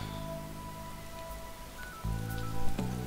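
Rain patters steadily in the video game Camping Manager 2012, a soft even hiss running under tonal game music and interface chimes, with no talking.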